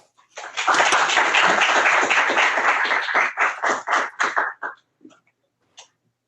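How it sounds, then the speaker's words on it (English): A lecture audience at a medical grand rounds breaks into a loud, full round of applause for a guest speaker. It holds for a few seconds, then thins into separate claps and fades to near silence. "give a warm round of applause to our speaker who flew all the way from Halifax to be here with us"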